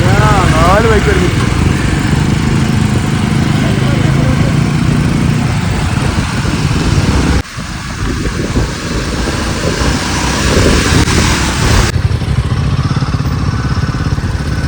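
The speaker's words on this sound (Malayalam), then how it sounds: "നാല് ബൈക്ക് വരുന്നു." Motorcycles ride along the road on the Masinagudi to Ooty route, their engines a loud, continuous roar and rumble right up close, mixed with wind buffeting across the whole stretch.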